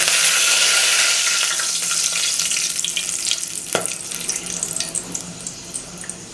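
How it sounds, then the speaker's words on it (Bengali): Cloves and whole bay leaves sizzle in hot mustard oil for a beef and chickpea-lentil curry, a steady broadband hiss throughout with one sharp crackle partway through, no talking. "এ পর্যায়ে আমরা তেলের ভিতরে দিয়ে দিচ্ছি লবঙ্গ এবং আস্ত"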